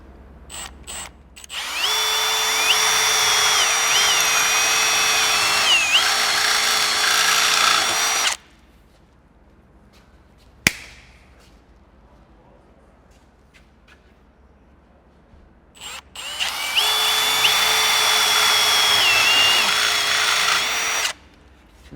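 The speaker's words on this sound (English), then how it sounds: "I'll hold the drill against myself rather than like at arm's reach" A power drill bores a hole in a Mitsubishi Triton's pillar in two loud, steady bursts of about seven and five seconds, with a sharp click and near silence between them.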